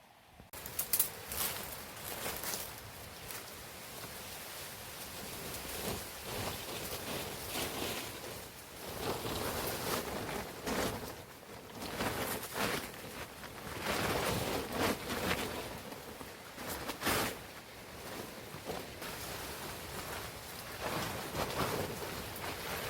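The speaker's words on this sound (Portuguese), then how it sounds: "Tem uma cachoeirinha lá na frente que tá caindo água." Small waterfall in a rainy forest, water falling steadily with a continuous broadband rush and occasional louder splashes, close and fairly constant, no voices.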